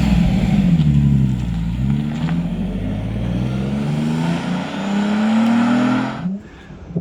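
A 1972 Lamborghini Espada engine pulls steadily while driving, its low harmonic drone rising and falling with throttle, loud and continuous with no voices, dropping away near the end.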